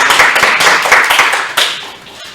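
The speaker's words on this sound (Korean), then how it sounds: "우리 조상현 의원님 뜨거운 박수로 환영해 주시기" Brisk clapping from a small audience at a city council education forum in Dangjin welcomes a council member, a quick patter of hands that rises and then fades within a couple of seconds.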